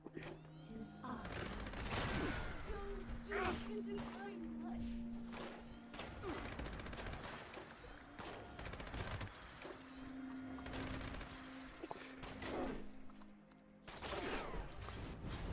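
Gunfire and bullet impacts in Fallout 76, rounds glancing off the player character, come in dense broadband bursts throughout, loud and continuous with steady game sounds and tones underneath, while a player talks over it.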